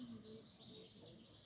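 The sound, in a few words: birds chirping outdoors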